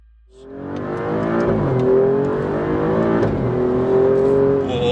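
Alfa Romeo Giulia Quadrifoglio in dynamic mode accelerating hard, its engine note climbing loud and close before a gearchange near the midpoint drops the pitch, then rising again as it surges into the next gear.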